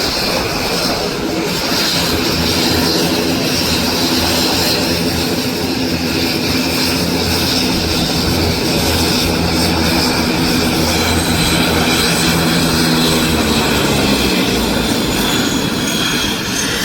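Propeller aircraft engines running at Palali airport after landing, a loud, steady, close drone with a low throb that winds down slightly near the end.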